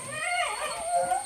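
A puppy, one of a litter of pups, whimpers and howls in a rising, wavering cry that runs continuously and close by for over a second, with no speech.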